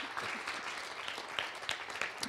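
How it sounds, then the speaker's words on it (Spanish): Congregation in a church clapping together in praise over their finances, a brisk wash of many hands with a few sharper claps standing out, fairly close and continuous. "Vamos a dar un aplauso al Señor por nuestras finanzas."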